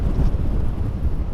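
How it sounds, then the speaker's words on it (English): Strong, steady wind buffets the microphone on Cleveleys beach during high tides and a flood warning, a loud continuous low rumble with gusts and no voices. "Goodness, that's windy."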